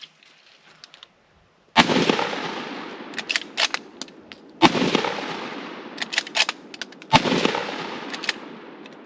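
A short-barrelled faux jungle carbine, a Lee-action rifle, fires three loud, sharp shots a few seconds apart outdoors, each followed by a rolling echo and scattered clatter as it dies away.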